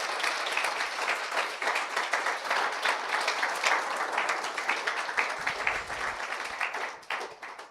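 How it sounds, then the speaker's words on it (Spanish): A church congregation applauds loudly and steadily for about seven seconds, a dense wash of many hands clapping before it thins out at the end. "Denle un fuerte aplauso al que vive y reina por los siglos de los siglos."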